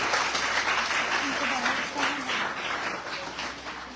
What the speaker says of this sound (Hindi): जोरदार तालियों के साथ इनका स्वागत।